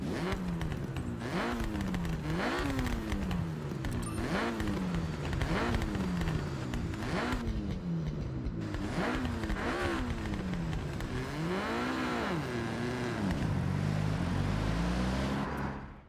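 A 700-horsepower car engine in Forza Horizon revs repeatedly, climbing and dropping in pitch through gear changes in a loud, close, sustained run, with no talking.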